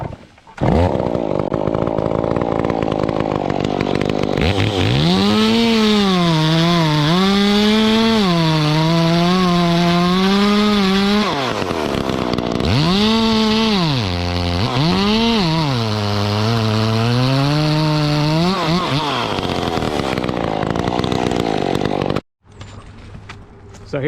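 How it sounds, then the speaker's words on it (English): A chainsaw cuts through a mature white oak branch during pruning, running loud and close for about twenty seconds with pitch rising and dipping as it loads in the wood, then stopping abruptly. "So here's my final cut on that branch."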